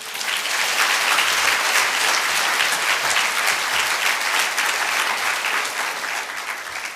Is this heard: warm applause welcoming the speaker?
yes